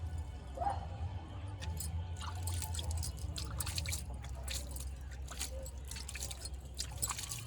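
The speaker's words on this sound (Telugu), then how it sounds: "వాటర్ చిలకరించుకుందాం" Water is sprinkled by hand over soil in a rooftop terrace garden container for growing organic amaranth, giving faint scattered drips and patters over a low background hum.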